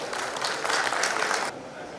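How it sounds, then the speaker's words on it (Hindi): Applause from an audience at a Broadway Ramlila felicitation event, a dense burst of clapping for about a second and a half that cuts off abruptly, with no talk over it. "मेरी बात ठीक हो तो ताली बजाकर इसका समर्थन करें।"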